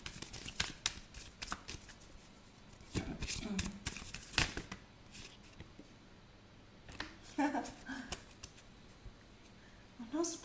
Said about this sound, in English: Let's get some more cards out.